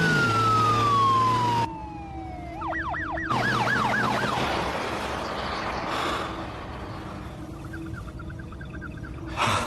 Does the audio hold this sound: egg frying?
no